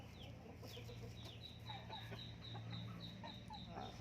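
A five-month-old Asil rooster weighing about 2 kg, kept at a chicken farm, makes soft clucks and short calls over a steady low farmyard hum, with repeated thin chirps nearby.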